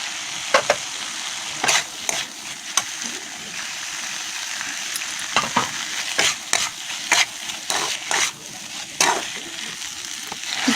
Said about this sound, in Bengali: তারপর ভাজা সবজিগুলি দিয়ে দেবো